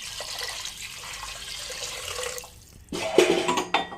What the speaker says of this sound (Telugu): ఇప్పుడు తగినన్ని వాటర్ వేసేసుకుంటాను.